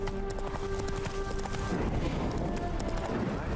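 Horse in The Witcher 3 game, hooves clip-clopping in quick rhythm at close range, with a short high whinny or neigh early on and steady ambient background.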